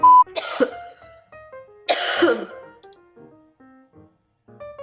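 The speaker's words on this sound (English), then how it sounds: "Siri picked up your coughs." Two harsh, noisy coughs or throat-clearing bursts, about two seconds apart, close by, with quiet tonal sounds between them.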